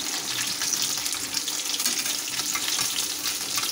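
Chicken leg pieces fry in a shallow layer of oil with a dense, continuous hiss and crackle, steady and close, with no talk over it.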